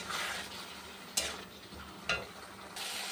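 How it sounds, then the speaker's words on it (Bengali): Spice masala of cumin powder, Kashmiri chilli powder, turmeric and salt sautéing with a little water for a fish curry, a soft steady sizzle with two sharp stirring scrapes of a spoon against the pan. "একটু হালকা জল দিয়ে মশলাটা কষিয়ে নেবো।"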